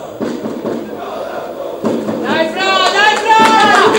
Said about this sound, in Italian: applausi da parte di tutti